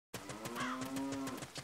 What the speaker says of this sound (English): there's more cows